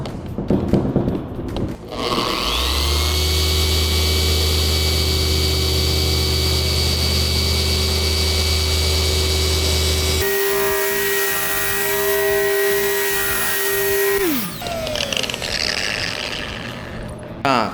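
A handheld polishing machine works cutting compound over 2000-grit sanding marks in a compound comparison test. A steady, loud motor whine runs for about twelve seconds, then the machine spins down and stops.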